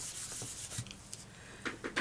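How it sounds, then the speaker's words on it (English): An embossing buddy rubbed across a scrap of Whisper White cardstock gives soft, faint scratchy strokes in a few short bursts, close up and with no voices. "we're going to take our piece of scrap Whisper White cardstock and we're going to run our embossing buddy over it"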